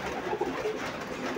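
Pigeons coo softly in a rooftop pigeon loft in summer heat, a faint low murmuring call over a steady background hiss.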